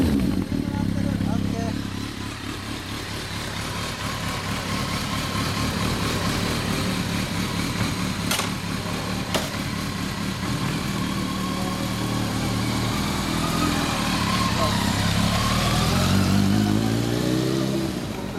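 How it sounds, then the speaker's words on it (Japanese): A 1999 Kawasaki ZRX1100 motorcycle fitted with a Nojima FASARM exhaust idles steadily and close by, a low rumbling engine note holding throughout with slight rises in pitch toward the end, with people talking over it. "エンジン音聞かして。"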